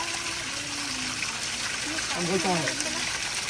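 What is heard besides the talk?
water flowing from a hill spring along Bababudangiri road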